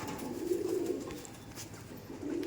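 Pigeons in a pigeon loft coo softly and continuously, the low throaty rolls rising and fading in two close swells with no talking.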